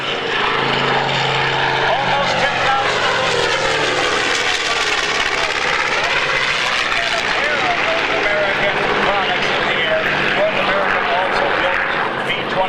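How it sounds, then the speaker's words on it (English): A B-25 Mitchell bomber at the 2016 Cleveland airshow roars past with loud, continuous propeller-engine drone that swells and shifts in pitch, while an announcer talks over it. "Now that bomber is reminiscent of the type that Jimmy Doolittle and his Raiders used on the attack on Japan"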